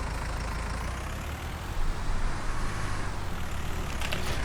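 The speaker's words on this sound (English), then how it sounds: "Usually with the cabless tractors it does sound quite loud." A cabless Deutz tractor engine in the Farming Simulator 19 game runs with a loud, steady, rough drone, rising slightly partway through, with no talk over it.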